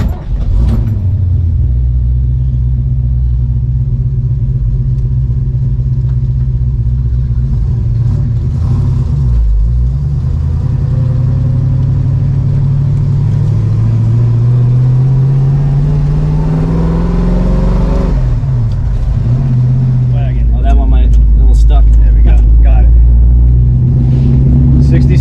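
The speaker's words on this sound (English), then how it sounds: "Mustang 289, loving it. Sounds fantastic." A classic Ford Mustang with a 289 V8 and a 4-speed gearbox drives along, its loud, steady low engine rumble rising and falling as it works through the gears, with voices heard in between.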